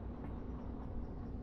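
A steady low rumble of a train rolling along in the VR game Derail Valley, continuous and even, with a faint rhythmic rattle underneath and no voices.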